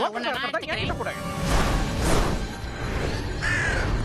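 A cartoon crow caws in a Tamil-dubbed Teen Titans Go episode, a few rough caws rising over voices and music, with a swoosh nearby.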